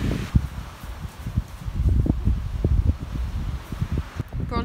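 Wind stirring garden leaves in a steady rustling wash, with soft irregular bursts and a brief higher whistle near the end; no talk is heard.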